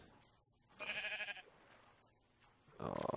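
Sheep in the video game Minecraft bleat twice, each a short wavering baa, the second louder, over faint background sound.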